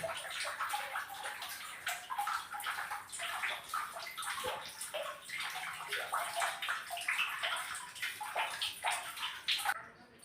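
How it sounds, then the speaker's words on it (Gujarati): Water drips and splashes continuously into a cave pool, a dense patter of falling drops echoing softly with no talking. "કુંડમાં પાણી ટપકા જ કરે છે"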